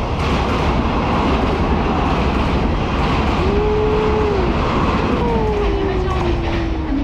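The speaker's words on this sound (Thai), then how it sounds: "มาแล้วครับรถไฟมาแล้ว" A train pulls into a station in Taiwan with a loud, steady rumble of wheels on rails and rising and falling whining tones as it arrives, with a voice briefly heard over it.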